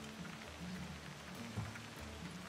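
Rain falls steadily in the Assassin's Creed Odyssey game world, a soft, faint, even patter with low rumbling underneath and no voices.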